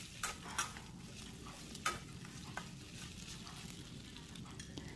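Rat meat stir-fried in oil with garlic and chili, a steady close sizzle and spatter with a few sharp clacks of a utensil striking the pan, no talking.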